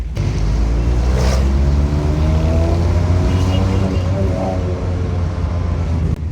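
A Suzuki Mehran engine revs hard and loud against an aftermarket rev cut-off, giving a continuous close-up drone with pulsing surges as it bounces off the limiter.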